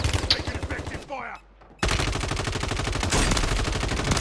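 Video game gunfire crackles in dense automatic bursts close up, breaks off briefly for a quiet gap, then resumes in sustained rapid fire that stays loud to the end.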